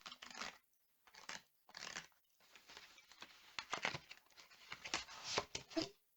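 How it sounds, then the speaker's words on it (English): A modelling knife cuts and snaps model kit parts from a packaged Sarissa Precision samurai castle kit, with close, crisp clicks, crunches and small pops in irregular bursts separated by short pauses. "Might need my modelling knife just to cut these"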